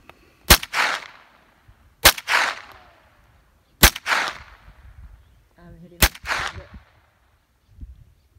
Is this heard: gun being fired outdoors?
yes